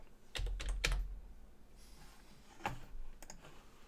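Quiet clicks of computer keyboard typing in a few short bursts, a cluster of keystrokes early, then scattered taps later, close and soft with no speech.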